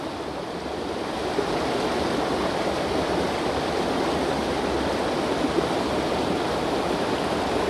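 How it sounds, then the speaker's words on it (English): Small waterfalls and drops in a clean Pennsylvania stream near a reservoir give a steady, close rush of splashing water, broadband and unbroken throughout. "And beautiful little falls and drops."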